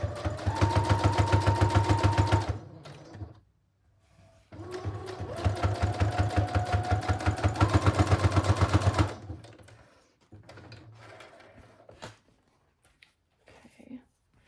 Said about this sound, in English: So we have our first sewing done.